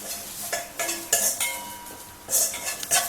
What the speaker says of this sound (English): Right now I'm frying this onion with coconut oil.